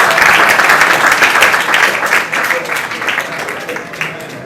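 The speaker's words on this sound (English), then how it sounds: "So one applause for him." An audience at a book launch applauds steadily, a dense wash of clapping that stays loud and gradually thins toward the end.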